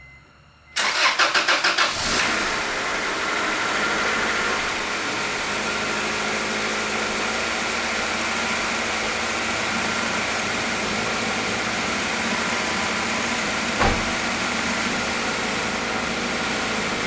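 A car engine, just serviced with cooling system work and a tune-up, cranks and fires, then settles into a steady, even idle that continues close by with no talk.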